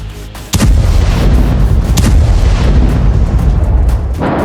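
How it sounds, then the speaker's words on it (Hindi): A roadside IED blast rips into an Israeli Merkava tank, opening with a sudden loud boom that rolls on as a long, dense rumble with a few sharper cracks inside it. "अगले ही पल वहां जोरदार धमाका होता है"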